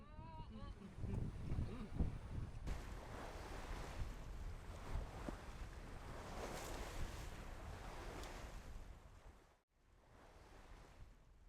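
A sailboat on a beam reach in a breeze, with continuous wind rush and wash of water along the hull and a dull buffeting roar that fades briefly near the end before resuming.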